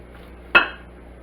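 A knife cuts kernels off a corn cob in a single sharp, close scrape-and-knock that fades quickly, with quiet before and after.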